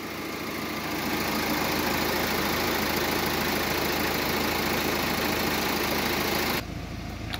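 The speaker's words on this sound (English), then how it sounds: "vehicle starts and idles fine." Steady diesel idle from a 2012 Kia Sorento with a 2.2-litre engine, a continuous even rumble that holds level for most of the stretch, then drops to a quieter hum near the end, with no talking.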